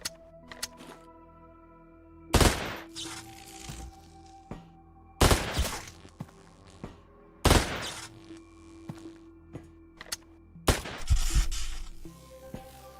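Four loud, sharp shots ring out in Escape from Tarkov, spaced a few seconds apart. Each hit lands as a sudden crack with a brief decaying tail over a quiet game backdrop.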